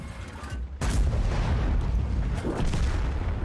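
Heavy tank cannon blasts boom from World of Tanks, one sharp shot followed by rumbling echoes and further distant booms.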